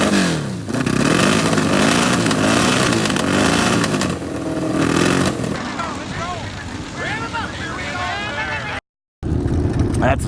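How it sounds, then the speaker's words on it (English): A chopped bobber-style motorcycle at an outdoor bike night revs its engine loudly and close by, a steady roaring drone with rising and falling pitch, while people talk over it and the sound cuts out briefly near the end. "He revved his engine."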